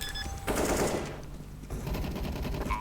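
Automatic gunfire in a Counter-Strike match between pro teams, with dense rapid bursts of shots, loud and close, then a brief lull and a second run of fire.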